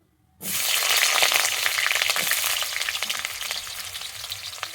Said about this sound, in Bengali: কড়াইতে সাদা তেল দিয়ে দিয়েছি আমার তেলটা গরম হয়ে গেছে এবারে আমি যে আলুটা নিয়েছিলাম আলুটা কেটে নিয়েছিলাম আমি আলুটাকে ভেজে নিচ্ছি